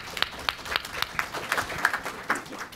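Applause from a panel audience: scattered hand claps rattle through the room at an uneven pace, fairly close and moderately loud, with no talking over them.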